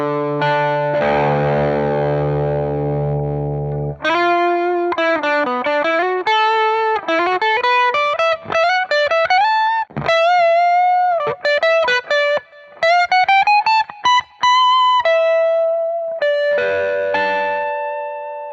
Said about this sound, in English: As you can see, it's exactly what it says, amp-like distortion.